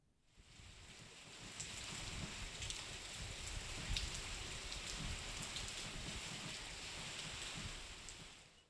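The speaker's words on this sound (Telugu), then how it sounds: "మధ్యాహ్నం ఒక్కసారిగా మారిపోయి ఉరుములు మెరుపులతో కూడిన భారీ వర్షం పడింది" Heavy rain pours down steadily during an afternoon thunderstorm in Telangana, a dense, even hiss of drops on surfaces lasting throughout, with slight wind and no voices.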